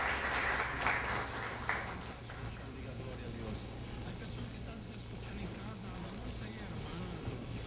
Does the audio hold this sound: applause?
yes